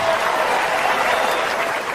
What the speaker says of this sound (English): Some of you are clapping, some are like, I don't get it.